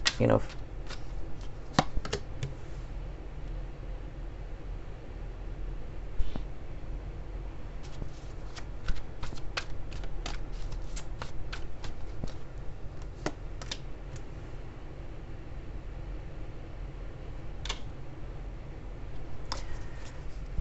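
Tarot cards are shuffled in a quiet room during a reading, with short riffling bursts and scattered crisp card snaps spread over a steady low background, and no talk over them.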